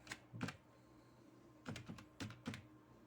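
A page name being typed on a computer keyboard: a few short, soft clusters of key clicks separated by a quiet pause, close but faint, with no talking.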